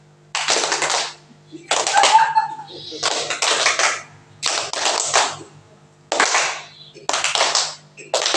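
A group of students claps short bursts in a concentration clapping game at an Indonesian school session, about seven separate rounds of quick hand claps with pauses between, and a brief voice partway through.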